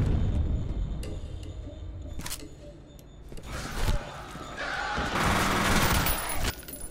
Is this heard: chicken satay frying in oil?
no